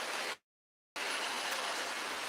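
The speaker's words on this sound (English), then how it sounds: "then the rain came down" Rain pours down in a steady, faint hiss that cuts out to complete silence for about half a second, then resumes just as evenly, with no voices.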